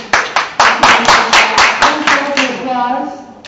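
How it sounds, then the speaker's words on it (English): At a congressional debate, a few close, sharp claps ring out in an uneven rhythm, loud and echoing, then thin out as a voice starts talking underneath near the end. "Applause."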